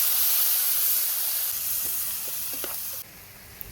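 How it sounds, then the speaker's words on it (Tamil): Ground tomato paste hits hot oil with garlic, green chilli, cumin and crushed pepper while making Kongu-style sambar, giving a steady loud sizzle and hiss throughout, with a few faint clinks near the end and no talk. "தக்காளி அரைச்சி வச்சதை போட்டுக்கலாம்."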